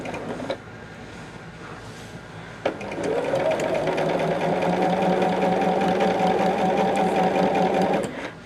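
A quilting machine stitching a large quilt, starting after a couple of clicks into a loud, steady, close mechanical whir with rapid needle rhythm that runs for several seconds, then stops.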